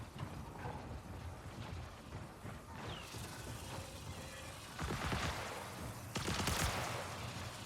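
Gunfire echoing outside in the sci-fi shooter game Marathon, a dense run of crackling shots and mechanical clatter with louder bursts near the end over steady game ambience.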